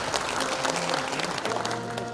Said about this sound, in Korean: 유공자 표창을 받은 6분께 다시 한번 큰 박수 부탁드리겠습니다